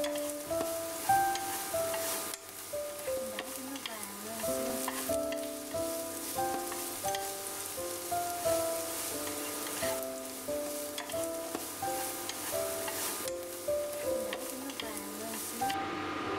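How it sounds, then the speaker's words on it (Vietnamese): Pork stir-fried in a pan for kho quẹt sizzles steadily for the whole stretch, a close, even frying hiss with faint stirring scrapes and soft background music. "Xong mình đảo cho thịt nó thơm á"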